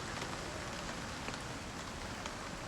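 Light rain and wind in the survival video game Icarus, a steady hiss of falling rain with soft pattering drops and a constant windy wash, even and unbroken, with no talking.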